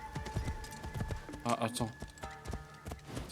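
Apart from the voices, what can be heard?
horse hooves clip-clopping in a video game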